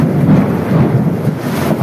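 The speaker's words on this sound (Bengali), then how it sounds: "আকাশের গর্জন দেখেছো?" Low thunder rumbles through a heavy rainstorm, a deep rolling growl swelling and easing over steady rain hiss, fairly loud and close, with no talking.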